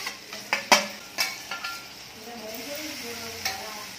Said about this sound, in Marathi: याच्यातच आता आपण टोमॅटो पण टाकून घेऊया